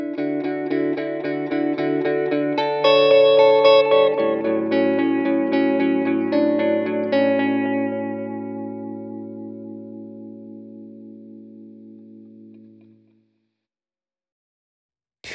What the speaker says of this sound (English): let's check out just the guitar going into the delay into the amplifier